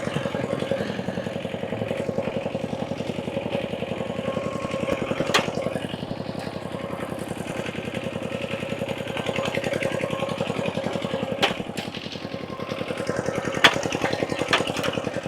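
A tractor plowing a rice field runs steadily up close, its engine chugging and clattering with a constant rhythmic pulse throughout, with faint voices under it.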